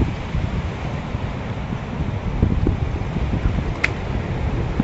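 Strong wind gusts sweeping through a forest, a dense continuous roar with rumbling buffeting against the microphone and no voices.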